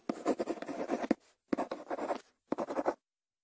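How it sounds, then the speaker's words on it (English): A pen scratches across paper while drawing a hen, in three close bursts of quick scribbling strokes separated by short pauses, with no talking. "Ken draws a hen for his sister."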